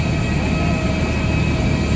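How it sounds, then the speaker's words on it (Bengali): Train pulling into a station in Kolkata, a steady loud rumble of rail cars and wheels filling the whole stretch without a break. "তো আমাদের ট্রেন এসে গেছে"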